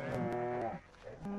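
A cow moos in Minecraft, one loud, close, drawn-out low call that fades, followed by a brief second lowing.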